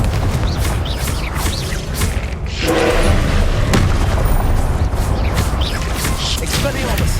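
Confringo blasting spell explosions from Hogwarts Legacy, a steady run of loud booming blasts and thuds layered with game effects, dense and continuous with no pause.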